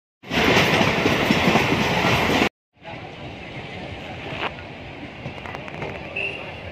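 A passenger train runs on the Pune–Mumbai–Surat route, a loud steady rumble and rattle that cuts out briefly and resumes slightly quieter with clicks, while people talk.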